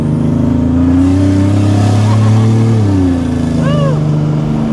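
A Buick Turbo T car accelerating at half throttle, its engine droning loud and close with a rising then falling pitch and a brief chirp near the end, with voices talking over it.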